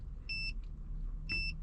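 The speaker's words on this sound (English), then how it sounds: "Now it gives you 2 beeps." Two short, clear electronic beeps from a BYD immobiliser confirm an entered password, spaced about a second apart over a low steady hum inside the car.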